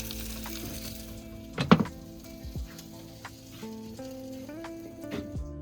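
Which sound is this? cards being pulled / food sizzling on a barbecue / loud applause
food sizzling on a barbecue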